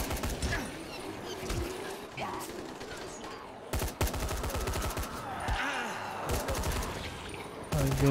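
Rapid volleys of gunfire in a zombie video game crackle in repeated bursts, some dense and rattling like automatic fire, over a busy background of game noise.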